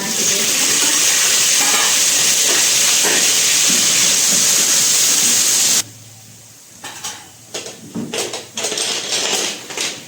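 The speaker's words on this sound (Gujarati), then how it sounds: "હવે આપણે ગાજર નાખવાના છે એને સાતળી લઈશું સાથે આપણે વટાણા" Carrots and peas sautéing in a pan for a matar paneer dish hiss in a loud, steady sizzle, which drops suddenly to a quieter simmer broken by stirring clatter.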